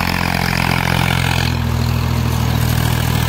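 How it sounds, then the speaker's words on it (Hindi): A Swaraj 855 tractor engine running steadily with a cultivator attached, a loud, continuous low diesel rumble close by with no pauses and no talk over it. "और देखो लाट सुनो ट्रैक्टर की,"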